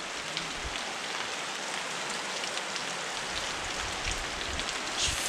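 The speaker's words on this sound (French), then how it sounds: "il pleut." Steady rain falls on a surface during a fatbike tour in Peru, a dense even hiss with scattered drop impacts, close and continuous throughout.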